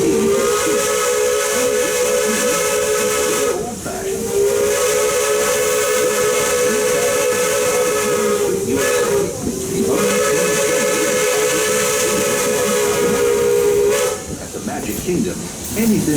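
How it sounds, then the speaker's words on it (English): Steam whistle of a Walt Disney World Railroad steam locomotive, sounding in long sustained blasts over a steady background hiss of steam and train noise, with brief breaks between the blasts. "we're traveling on pure steam power. This old locomotive is descended from the mighty trains that powered the golden age."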